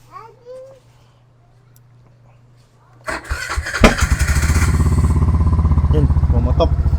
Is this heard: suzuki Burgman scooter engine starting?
yes